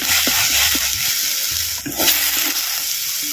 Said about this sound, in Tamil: சேர்த்த இஞ்சி பூண்டு விழுதுகளை எண்ணெயில் நல்லா வதக்கு வதக்கணும்